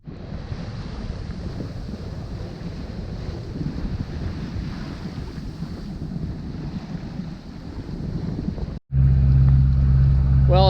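An Island Packet 38 sailboat motoring with sails down after a spinnaker run, its steady engine drone mixed with water wash and gusty wind buffeting the microphone, continuous and close, ending in a louder, harsher burst of noise.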